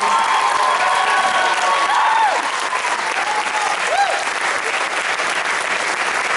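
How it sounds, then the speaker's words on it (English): A high school senior showcase audience breaks into loud, sustained applause with some cheering and whoops mixed in, a thick wash of clapping from a large crowd that continues without pause. "Let's give them a round of applause."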